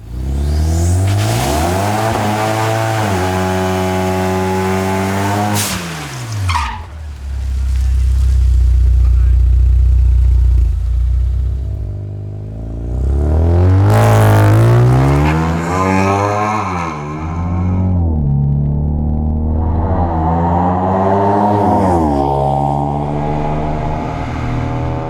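Supercharged 2.9L Ford Mustang on a drag strip, its engine roaring loudly through repeated rising acceleration sweeps broken by shifts and lifts, with someone talking over parts of it.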